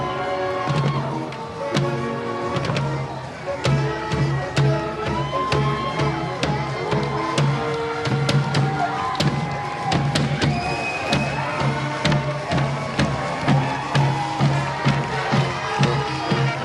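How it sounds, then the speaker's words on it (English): A high school marching band plays at a Days of '47 parade, brass melodies and steady drum beats carrying over a cheering outdoor crowd, loud and continuous throughout. "Kearns High School Marching Band, you can hear them right now."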